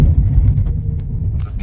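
A car engine is switched off with the key mid-drive, leaving a low rumble of the car rolling along, with a faint click near the start.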